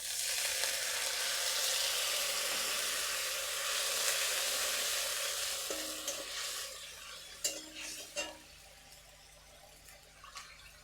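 Food stirred in a pan for a payesh with a little water added, a loud hissing sizzle that fades as spoon scrapes and clinks come through, no talking.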